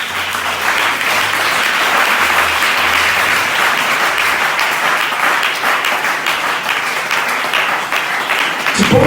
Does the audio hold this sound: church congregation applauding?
yes